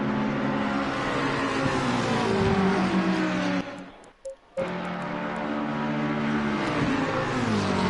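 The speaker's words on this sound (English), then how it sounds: "the number 98 Ferrari of Jamo in pursuit, who's hot on the heels of the number 7 McLaren" Race cars including a Ferrari and a McLaren in a racing video game at Catalunya, loud continuous engine whine with shifting pitch, briefly cutting out to near silence midway before resuming.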